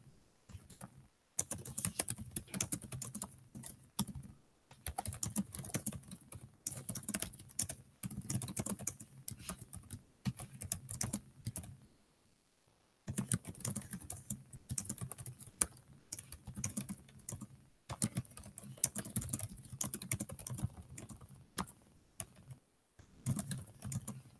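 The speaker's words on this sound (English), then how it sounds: "Sorry about the typing" Fast bursts of typing on a computer keyboard, close and steady, broken by a few short pauses and one longer silent gap partway through.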